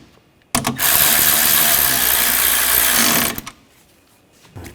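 Ratchet tightening bolts on an engine cooling fan assembly of a 2013-2022 Buick Encore: one loud continuous run of rapid clicking for about three seconds, close up, then a couple of faint clicks.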